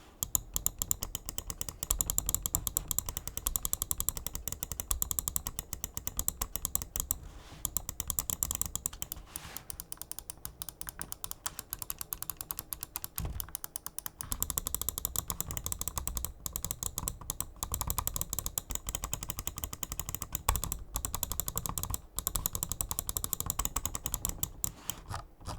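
Rapid clicking from a Lamzu Atlantis Mini wireless gaming mouse, a dense run of quick, close, crisp clicks continuing steadily with a brief pause midway, heard alone without talk.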